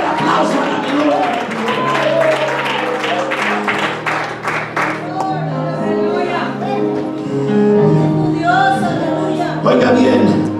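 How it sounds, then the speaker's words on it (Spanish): A church congregation bursts into applause and clapping during a New Year's service, a loud, dense mass of hands that continues for several seconds while a preacher's voice keeps going over it. "Dale fuerte el aplauso a la gloria."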